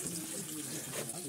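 Water pours into an empty beer bottle, a short hissing, gurgling fill heard close up, with a voice talking over it.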